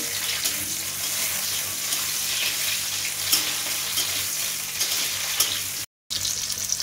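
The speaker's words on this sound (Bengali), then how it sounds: "ওই যে রেড বেল পেপার আর ইয়েলো বেল পেপার যেটা আছে ওটা একটু সটে করে নিতে হবে" Red and yellow bell peppers sauté in a hot pan, a steady close sizzle with occasional stirring scrapes and brief pops, interrupted by a short silent gap near the end.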